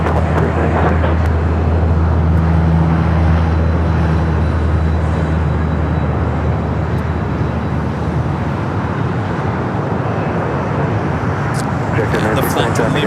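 A jet airliner bound for Lima, Peru taxis at LAX, a loud, steady, rumbling engine drone that holds throughout with a low hum underneath.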